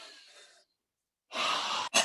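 Close breathing during a guided exercise: a soft exhale fades out, then after a brief silence comes a strong, airy inhale and a short, sharp intake of breath.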